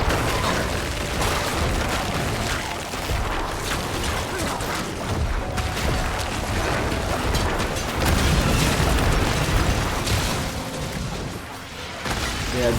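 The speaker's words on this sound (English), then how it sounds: "those explosions are the ones that I fear the most" Explosions in the action role-playing game Diablo 4 during a hardcore Necromancer co-op session, a dense, loud barrage of booming blasts and crackling bursts layered over constant game noise throughout.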